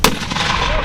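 A single sharp, loud mortar launch from a mortar battery training shoot booms at the start, followed by a sustained rumbling echo that fills the rest of the moment.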